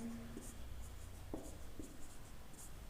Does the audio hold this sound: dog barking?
no